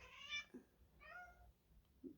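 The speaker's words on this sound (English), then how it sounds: "my cat, Pearl. She wants to come in, but she doesn't like the door closed" A house cat meows twice at a closed door, wanting to be let in; each call is drawn-out and fairly close, separated by a short pause against a quiet room.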